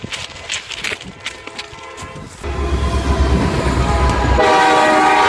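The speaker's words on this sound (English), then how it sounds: "We're literally on the tracks. There's a train coming." A train rumbles past at close range with its horn sounding, the loud low roar building midway and staying strong to the end, with sustained horn tones over the rolling wagons.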